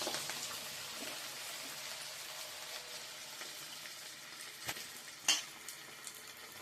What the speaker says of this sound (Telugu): ఇప్పుడు చికెన్ తీసుకుని మనం ఆయిల్లో వేసి ఫ్రై చేసుకుందామండి.